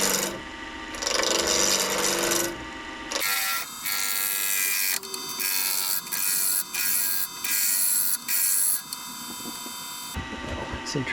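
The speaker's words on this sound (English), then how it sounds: "I'm about to try a freshly sharpened spindle roughing gouge to see if that can cut epoxy." A freshly sharpened spindle roughing gouge cuts epoxy resin on a lathe, giving a loud, bright rasping scrape in repeated passes separated by short pauses.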